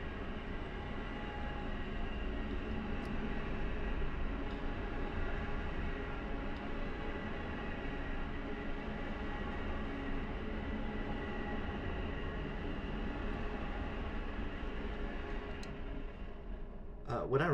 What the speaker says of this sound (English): gonna wait for that train to go by.